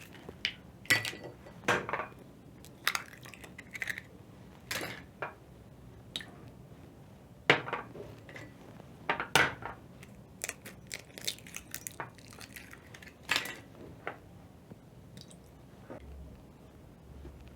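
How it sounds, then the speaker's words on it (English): Eggs cracked into a small bowl, sharp taps and wet cracks at irregular intervals, close up, with clinks of shell and dish in a quiet kitchen and no talk. "4 eggs for my bread. So I'm going to crack in a small bowl and then transfer to another bigger bowl."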